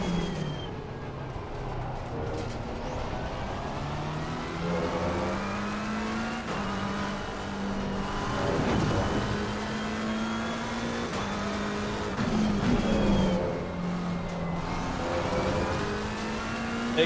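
A race car engine drones through gear changes on the Misano circuit in the Assetto Corsa Competizione racing game, a steady, moderately loud tone rising and dropping in pitch with occasional tyre squeal, no voices.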